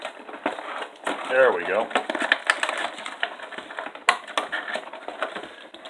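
Scissors snip and crackle through stiff plastic packaging to free a Mattel Retro "Hacksaw" Jim Duggan wrestling action figure, close crinkling and clicking heard under someone talking.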